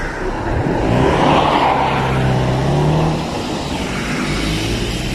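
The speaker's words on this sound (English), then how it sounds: "Wait for these vehicles to pass." Several vehicles pass by near an air base entrance, a steady broad roar swelling as they go by close and then easing off, with no talking.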